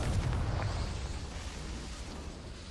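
A Confringo spell explosion in the video game Hogwarts Legacy bursts as a deep, rumbling boom that rolls on and slowly decays over nearly three seconds, with no voices over it.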